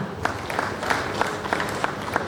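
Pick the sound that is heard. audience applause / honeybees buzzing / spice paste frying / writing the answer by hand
audience applause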